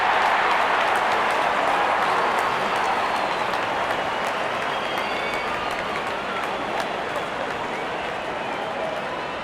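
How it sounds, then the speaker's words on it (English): Crowd noise fills a stadium in the cricket video game Real Cricket during an India vs Australia match as the openers walk in, a continuous roar of cheering and applause that fades slightly over time. "Openers walking in and the crowd cheering in anticipation."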